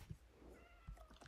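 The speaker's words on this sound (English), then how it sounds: "A kitty." A short cat meow in the Java edition of the video game Minecraft, a single faint mewing call heard alone.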